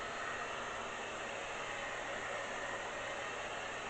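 A hair dryer blows steadily and alone at close range, a constant broadband rush being swept over a pool table under repair.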